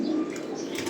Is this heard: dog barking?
no